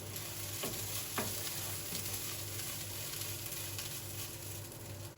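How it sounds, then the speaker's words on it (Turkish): Onions sizzle and fry steadily in a large pot, a soft constant crackle with a few faint clinks of stirring, no voices. "Soğanlarım da kavruluyor burada."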